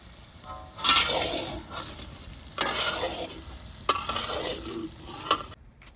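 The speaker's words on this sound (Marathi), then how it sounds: "हिरवी मिरचीची पेस्ट, अदरक लसूण हिरवी मिरची पेस्टचा कच्चापणा जाऊसर परतवून घेऊ।" Green chilli, ginger and garlic paste with asafoetida sautés in hot oil in a pan, with a close, steady sizzle broken by several bursts of stirring and scraping, with no talk.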